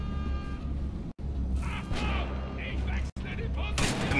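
Turret gunfire in Wolfenstein: The Old Blood, heavy booming shots repeating over a constant rumbling game bed, with brief cuts to silence and a player's voice talking over it.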